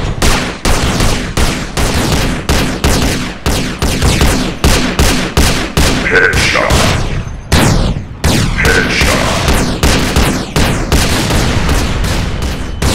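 Rapid, loud gunfire from GTA San Andreas, with dense volleys of shots fired nearly without pause as gang members are dropped with headshots, a few brief gaps breaking the barrage.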